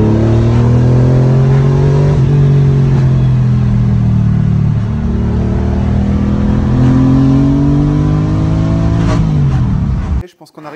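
A Porsche 993 RSR race car engine revs up and down with slight misfires, loud and close with rising and falling pitch, then cuts off abruptly at the end; a voice talks faintly over it.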